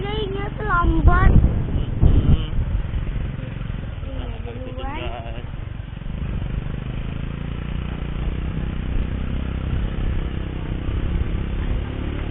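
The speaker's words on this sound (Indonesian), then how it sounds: "kita naik motor guys" A motorbike engine hums steadily beneath the ride on the way to a waterfall, with people speaking briefly over it at the start before the engine drone continues alone.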